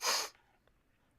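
A single sharp, close sneeze bursts out loudly and ends abruptly, followed by near silence with a couple of faint clicks.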